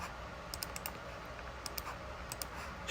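Typing on a computer keyboard, with light, quick clusters of key clicks tapping in short bursts over a steady background hiss, fairly faint and without talk.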